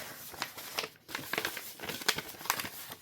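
A paper bank envelope handled and crinkled, with quiet crackling rustles and small crisp crumples in quick irregular bursts, close by and without talk.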